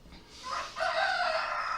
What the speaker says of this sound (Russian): Наши куры пришли сюда, у нас здесь открыто окно, они все сюда пришли, Петька их тут собирает